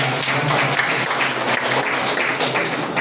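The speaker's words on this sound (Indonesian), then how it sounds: "boleh kasih tepuk tangan untuk rohani kita" An audience at a Christian seminar applauds, an even, sustained patter of many hands clapping together at moderate volume throughout.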